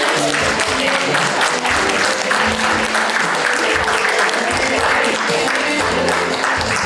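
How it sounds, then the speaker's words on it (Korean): Loud, dense audience applause fills a Tuberculosis Prevention Day commemorative award ceremony, a steady, unbroken roar of many hands clapping close by for the full length. "박수를 쳐주시면"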